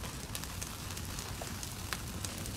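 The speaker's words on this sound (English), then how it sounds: "the hay is lit on fire and it burns so hot" Burning hay crackles and roars in an intense, hot blaze while pork cooks over it, a dense, steady hiss with scattered sharp pops, fairly faint and without voices.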